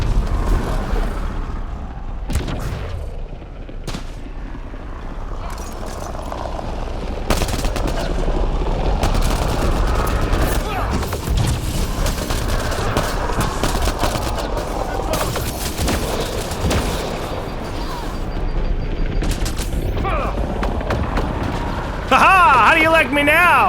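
Gunfire in the sci-fi shooter Mass Effect Andromeda, with rapid bursts of automatic shots and impacts running throughout a firefight, mixed with game effects and talking voices.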